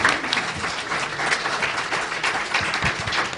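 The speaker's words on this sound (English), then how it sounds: "A round of applause." Audience applause at a blockchain summit following a congresswoman's speech, steady dense clapping from a large crowd that holds at an even level throughout.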